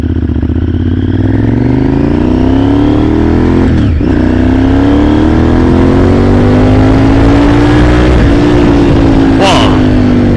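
A Honda Firestorm VTR 1000 motorcycle accelerating hard from a standstill to sixty, its loud close V-twin engine note rising through the gears with brief dips at each shift, steady roar throughout.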